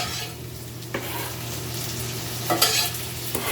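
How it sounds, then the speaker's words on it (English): Constant crackling sizzle of a coffee-rubbed T-bone steak's juices frying in a pan, close and steady, with a few scraping stirs and clinks breaking through. "You can hear it sizzling more."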